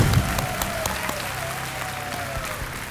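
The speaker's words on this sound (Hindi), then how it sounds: "तालियां बज जाए महिमा जी के लिए।" Studio audience clapping for a contestant on the Hindu game show KBC Queens, a steady burst of applause that holds throughout at moderate loudness, with faint background tones and a bit of host voice underneath.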